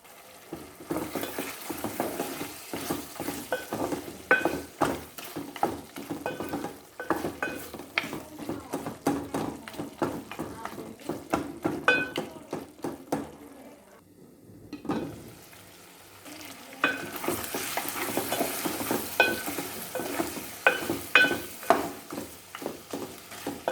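Mutton chops and gravy sizzle in a pan on a low flame while a utensil stirs and scrapes repeatedly against the metal, with a short lull before the stirring and bubbling pick up again.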